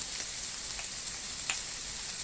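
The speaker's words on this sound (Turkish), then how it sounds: "Şöyle biraz kavurduktan sonra baharatlarını atacağım." Meat sautés in a pan, a soft steady sizzle with a few sharp crackles and spatters, no talking.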